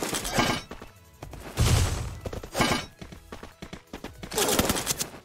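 Bursts of rapid gunfire from a battle royale video game come in uneven clusters, loud crackling volleys separated by brief lulls.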